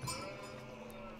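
Sheep bleat briefly in the Age of Empires IV strategy game, a short bleat near the start over a steady bed of game ambience and music.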